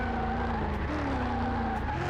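Gas engine of a Ford truck driving in Car Mechanic Simulator 2021, a steady mid-pitched engine drone with a rising and falling tonal whine, continuous and fairly loud with no voices.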